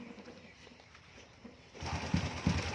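A Honda Wave 125 motorcycle with a newly fitted carburetor, freshly assembled, starts on the first try after a quiet moment and settles into a loud, close, rhythmic putter.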